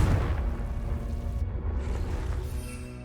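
A Confringo fire-spell blast in Hogwarts Legacy: a loud, low, booming burst at the start that rumbles on and slowly fades over a few seconds.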